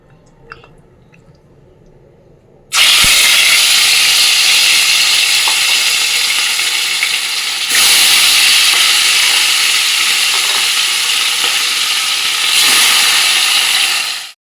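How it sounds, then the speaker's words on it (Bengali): Rohu fish hitting hot oil in a pan: after a quiet start, a sudden loud, dense hissing sizzle erupts and holds steady for about ten seconds, surging slightly partway through, then cuts off abruptly. "এখন চলো মাছটা আগে ভেজে নিই"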